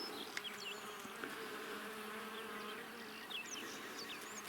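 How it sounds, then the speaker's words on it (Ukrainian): A bee buzzes faintly amid bushes and a planted shelter belt near a cliff edge in late May, a soft steady hum with other insects and light outdoor ambience, no voices. "бджола тут є"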